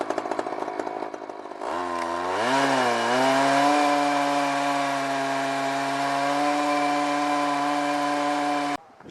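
An Alaskan chainsaw mill bites into lodgepole pine, the engine revving up from idle to a loud, steady high-pitched whine that holds under load through the cut before cutting off abruptly.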